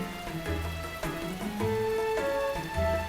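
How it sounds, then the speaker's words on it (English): A heavy downpour in the video game Island, with rain pattering among clear tonal ringing notes in a short, busy patter. "Suddenly the heavens open and heavy drops of rain start hitting my face"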